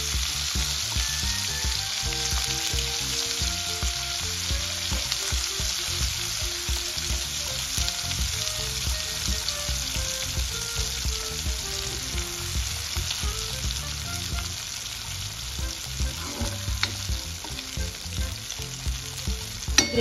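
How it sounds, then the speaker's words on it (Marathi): Onion, tomato, cashew and dried red chili paste frying in hot oil until the oil separates, a steady close sizzle with frequent scraping stirs and occasional clinks, loud throughout without any voices. "ती व्यवस्थित तेलामध्ये छान असं तेल सुटेपर्यंत आपल्याला भाजून घ्यायची"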